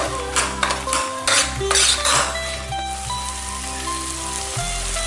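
Ingredients with spice powders being sautéed in a pan for Kumbakonam kadappa, a crackling, rain-like sizzle broken by metallic spatula clinks and scrapes, close up and without talk.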